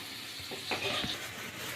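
Boiled potatoes fry in oil in a pan, giving a soft, steady sizzle at low level with a few brief scraping stir sounds in the middle.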